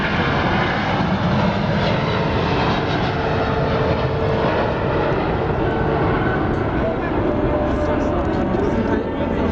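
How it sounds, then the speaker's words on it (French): Airbus A380-800 taking off at the Paris Air Show, a loud sustained jet engine roar filling the whole stretch at steady intensity, with a commentator's voice over it. "Rotation at 120 knots, and the Queen of the Sky lifts into the air"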